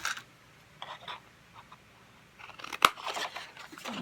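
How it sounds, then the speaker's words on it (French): Scissors snip a paper title for a summer watercolor piece, a few soft close crunching cuts scattered over quiet room tone, ending in a sharper snip. "Alors ça, je vais le couper."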